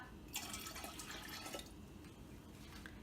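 Water poured from a cup into a glass pitcher, a steady splashing pour that starts after a brief pause and runs close and clear for a couple of seconds before tapering into light trickling and drips, with no talking.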